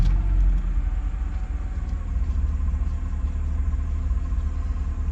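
A 2002-2006 Honda CR-V engine idles smoothly after a rough-idle fix: a steady, close, low rumble that holds an even level throughout, with no surges or stumbles.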